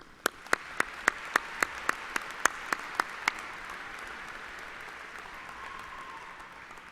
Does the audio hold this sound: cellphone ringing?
no